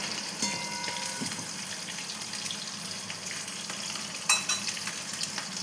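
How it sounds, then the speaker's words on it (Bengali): Fish fries in a pan in hot oil, a steady low sizzle with a couple of brief clinks and a sharper burst of spatter near the end. "মাছটা আমি লাল লাল করে একটু ভেজে নিই"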